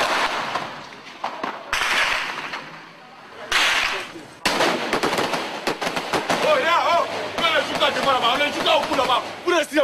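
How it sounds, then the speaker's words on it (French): Gunfire from street fighting in Abidjan: sharp shots and bursts crack out repeatedly, near and loud, mixed with shouting voices and chaotic street noise. "Vous tirez sur les gens, il y a quoi?"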